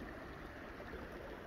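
Water from a stream pours around a rock weir as a steady, quiet, broadband rush with no distinct splashes and no voices.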